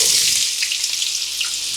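Chopped onion hits hot fresh oil alongside cashews for chicken fried rice, giving a steady, bright, close sizzle and crackle with no talking.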